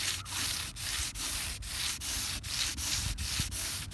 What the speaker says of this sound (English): I've got to remove these roller marks before we clear. So, a light sanding.